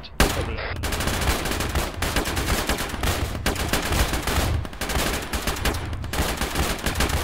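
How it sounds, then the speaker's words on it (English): Machine gun in the tactical shooter ARMA firing short bursts, sharp close rounds hammering out in quick clusters with brief gaps between, loud and sustained across the stretch, with little talk. "Gun, nice short burst, 2-3 rounds."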